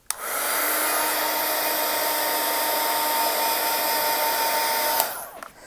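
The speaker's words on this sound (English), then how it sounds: "This is just a heat tool. I'm going to give it a little zap." Handheld heat tool blowing hot air to dry watercolor paint on a Christmas gift tag, a steady loud whooshing roar that holds for about five seconds and then cuts off with a faint click, no voices.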